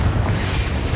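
The Confringo fire spell from the video game Hogwarts Legacy explodes as a loud, close, deep boom that rumbles through the whole second.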